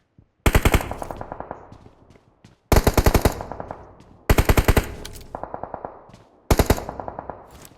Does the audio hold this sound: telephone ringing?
no